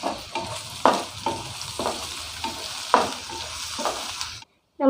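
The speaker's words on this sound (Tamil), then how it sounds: "இப்போ இதை கொஞ்சம் வதக்கி எடுத்துக்கலாம்." Crushed garlic, curry leaves and fennel sautéing with prawns in a pan, a steady close sizzle broken by sharp scraping stirs at regular intervals, then stopping abruptly near the end.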